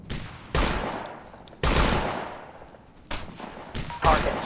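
Loud rifle shots ring out in Operation Flashpoint: Dragon Rising while a sniper is engaged, four separate cracks about a second apart, each followed by a long echoing decay.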